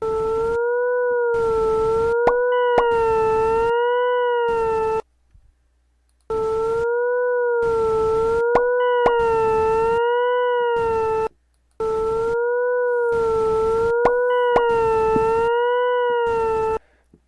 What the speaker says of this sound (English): listen to the sine wave being overlapped by a parabolic positive graph